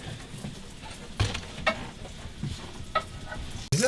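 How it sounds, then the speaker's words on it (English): Chorizo sizzles and spits in a frying pan on a boat's galley stove, a steady fry broken by a few clattering stirs and scrapes of a utensil, close by and with no one talking. "actually we're currently cooking some chorizo"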